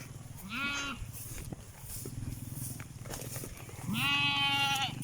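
Two loud goat bleats, one early and one near the end, wavering and nasal, over a steady low background rumble.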